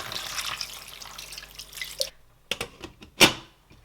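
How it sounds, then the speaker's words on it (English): Water poured into a simmering pot of Nigerian oha soup, a splashing pour that cuts off, followed by a few separate drips and splashes, close by with no talk. "I am going to add water to it"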